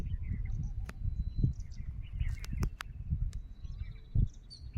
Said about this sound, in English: The melodious twittering sound of the birds